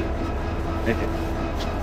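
The Nazirhat local train rumbles steadily at Chittagong Cantonment railway station, a continuous loud rolling drone with a faint squeal partway through.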